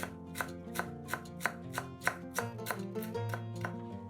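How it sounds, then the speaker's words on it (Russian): A knife chops a bunch of dill on a board in a quick, even rhythm, about ten close, crisp taps over soft background music. "Нарезаем пучок укропа."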